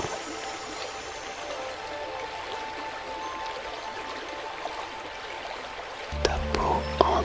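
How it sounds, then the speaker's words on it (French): A river murmurs softly somewhere among bamboo, a steady, faint trickling wash running evenly throughout, with a brief louder clatter of movement near the end. "le murmure discret d'une rivière cachée sous les bambous"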